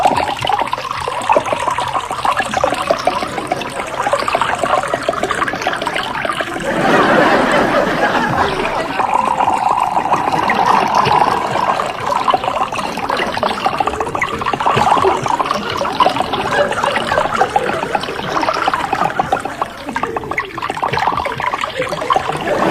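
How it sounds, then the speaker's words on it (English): Water poured from a jug into a drinking glass, a steady liquid trickle and gurgle lasting throughout, fairly close and loud, with no voices over it. "could you let me have a glass of water?"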